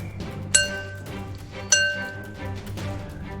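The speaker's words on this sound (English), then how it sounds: "That's the sound of rocks on plate mail." A sound effect of rocks striking plate mail, heard as two bright, ringing metallic clinks about a second apart. Each one starts sharp and loud, then a high chime fades slowly over a quiet background.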